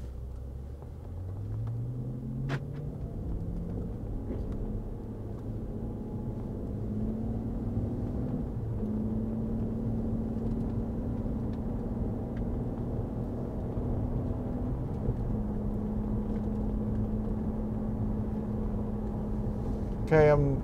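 A 2006 Bentley Flying Spur pulls away and accelerates, its steady engine hum climbing in pitch through several gear changes over continuous road rumble, with a brief louder burst at the end.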